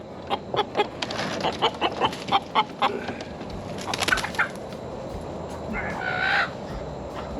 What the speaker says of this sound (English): So as you can see, this is the rooster.